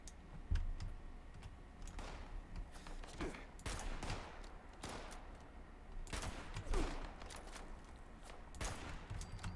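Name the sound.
gunfire in a video game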